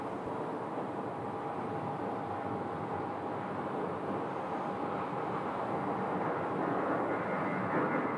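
A Southwest airliner takes off at Phoenix Sky Harbor airport with a continuous, broad jet engine roar that holds steady and swells slightly toward the end, heard from a distance.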